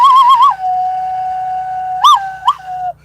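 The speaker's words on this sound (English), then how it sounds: "Did you guys like that whistle?" A person whistles a sustained melodic tone, with a short warble at the start and two brief upward swoops near the end, close and fairly loud with faint low hum beneath.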